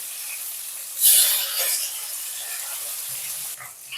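Rohu fish pieces frying in oil in a pan, a steady, moderately loud sizzle that swells briefly and then settles before dropping off near the end.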